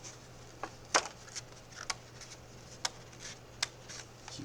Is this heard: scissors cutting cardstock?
yes